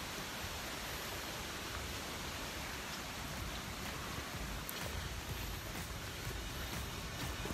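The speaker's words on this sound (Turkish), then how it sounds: "Şelalenin başlangıcına geldik." The Galgamaç waterfall roars as a constant, dense hiss of rushing water, loud and unbroken, with no other sound standing out.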